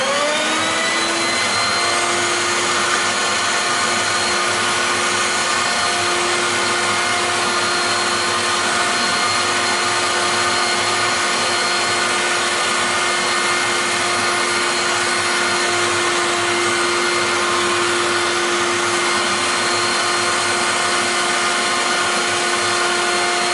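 A router fitted with a 1/16 inch brass-tipped radius bit cuts thin jewelry box wood, giving a loud, continuous high-pitched whine that holds steady throughout without pause.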